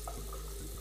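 Water runs from a mixer tap into a washbasin in a residence bathroom, a steady, soft splashing stream heard alone and fairly quiet for under a second.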